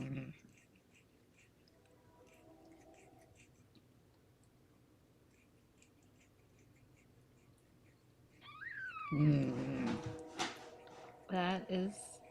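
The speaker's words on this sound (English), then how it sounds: "That is the miracle kitten making noise." A newborn kitten gives several thin, high mewling cries close by, toward the end, after a long quiet stretch.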